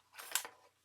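A single quick, faint snip as a small wedge is cut out of card stock, crisp and close, with silence on either side.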